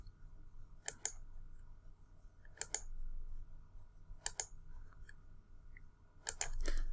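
Mouse clicks while a polyline is traced along a boundary on a computer, heard as four sharp close double-clicks spaced about every second and a half over a faint steady room hum.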